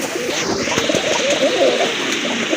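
Pigeons coo in a loose, overlapping chorus, males calling among a chocolate-faced pair and other birds in a busy pigeon-selling spot, the soft throaty coos steady and near against a dense background murmur.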